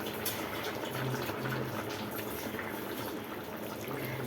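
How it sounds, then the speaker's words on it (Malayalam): Milk pours into a pot of curry in a home kitchen, giving a soft, steady liquid rush that runs evenly at a fairly low level with no talking. "അതുകൊണ്ട് ഇപ്പോൾ തരിപ്പാൽ ഒഴിക്കാൻ പോവാണേ"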